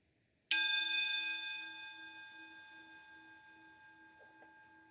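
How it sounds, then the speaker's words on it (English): One bell is struck once at a worship service, a clear bright strike that rings on with a long, slowly fading tone and a faint pulsing shimmer, alone in a quiet room. "As we follow the sound of the bell into silence"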